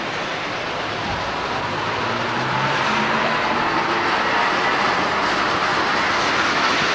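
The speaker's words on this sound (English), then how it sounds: "Meanwhile, the train still hasn't got across the road." A train rolls past during the 1988 Greymouth flood, a steady broadband rumble and rush that swells slightly after a few seconds and holds close and loud throughout, with no talk.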